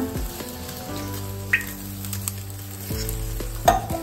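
Oil heating in a hot pressure cooker while cooking a village-style egg and chicken curry, giving a steady soft sizzle under low tonal hum, with a few brief clinks and a louder clatter near the end; no one speaks.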